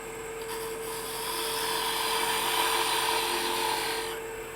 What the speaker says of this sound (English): I'm going to come in with a parting tool right in here.